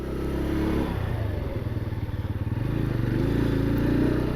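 A Bajaj Pulsar N125 motorcycle being ridden through gear changes, its engine holding a steady mid-pitched drone with slight rhythmic dips and swells, close and continuous.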